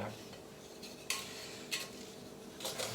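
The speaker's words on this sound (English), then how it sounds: "I'll try and give it a stir this morning, but it just seems to be crushing everything" Blackberries and sugar being stirred in a cooking pot, with a few sharp scraping knocks of a utensil against the pot over a steady low background, no talking.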